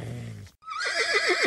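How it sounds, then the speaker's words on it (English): A horse on a farm gives a loud, close, wavering whinny lasting about a second, following a short burst of another low animal call. "Giddy up, here come the horses."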